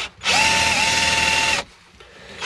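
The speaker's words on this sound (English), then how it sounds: "we're just going to drill straight through that one as well" A power drill whirs loudly and steadily for over a second drilling through wood, pitch dipping slightly as it bites, then stops abruptly; very close, no voices.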